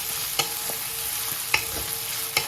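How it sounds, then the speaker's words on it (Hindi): Chopped onion with green chilies frying in a pan, a steady close sizzle broken by a few sharp clinks of a spoon stirring against the pan. "प्याज को मैंने डाल देना है। और इसे मुझे फ्राई करना है।"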